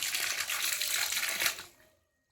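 Water gushes steadily from an opened tank tap fed by a motor, a close, broadband rushing stream that runs for under two seconds and then cuts off into silence.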